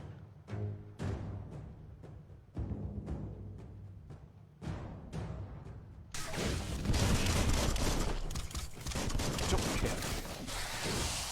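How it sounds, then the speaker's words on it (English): Gunfire in the video game Biomutant: a few sharp separate shots ring out, then a dense, loud barrage of rapid continuous fire with crashing impacts takes over. "Bullets everywhere."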